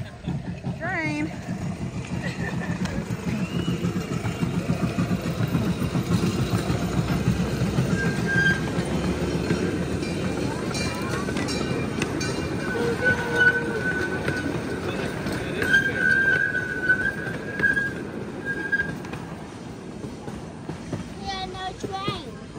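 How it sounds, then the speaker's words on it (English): A train rolls past nearby with a continuous low rumble of wheels on rails and occasional higher metallic squeals, while people talk over it. "Train."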